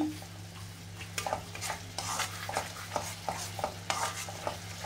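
Spice masala with yogurt, chilli powder and boiled potatoes stirred and frying in a pan for biryani, a steady low sizzle under repeated scraping strokes of a spoon, close and moderately loud, with no talking.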